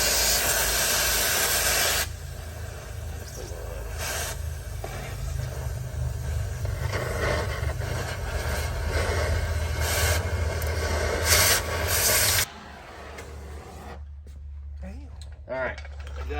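A cutting torch washing away welds on a pull truck's metal, a loud steady hissing roar that runs continuously, with a voice briefly over it, then cuts off and leaves a quieter low hum.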